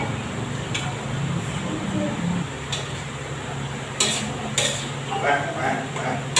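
Miki Canton noodles and broccoli cooking in a pan, a soft steady sizzle with a few sharp clinks of utensil on the pan.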